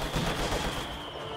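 A heavy mortar shell bursting in a World War strategy game, heard as a dense, rumbling crackle of blasts and gunfire that fills the short moment and then thins out, with no voices.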